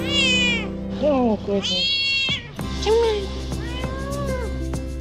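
Several small surrendered rescue kittens meow loudly and repeatedly up close, high rising and falling cries overlapping one another, while a person briefly speaks over them.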